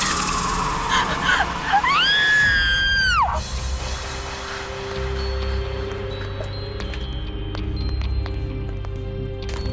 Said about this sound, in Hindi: यहां तो कोई नहीं है, फिर ये चीख